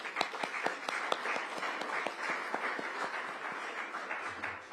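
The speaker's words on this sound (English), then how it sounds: "that deserves a hand clap" Scattered hand claps from a small audience at a mayor's press conference in Washington, DC, faint and distant, with sharp individual claps in a loose, uneven rhythm.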